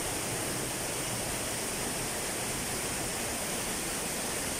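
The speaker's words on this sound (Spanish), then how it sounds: "Y está cayendo el agua, vea." Waterfall on the Agres river pouring down a stone wall, a steady broadband rushing roar with no pauses or other sounds.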